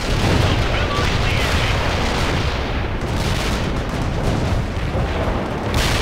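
Sustained artillery barrage in the World in Conflict strategy game, a dense, loud, continuous roar of booming fire with no clear gaps between impacts.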